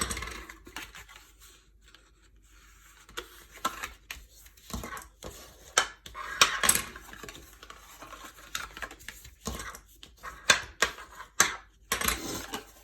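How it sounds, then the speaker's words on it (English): Paper being folded and burnished by hand into a tea bag gift box, with a run of short crisp creases, rubs and taps, some faint and some sharper, close up and with no talk. "we're just going to fold it we're going to burnish these"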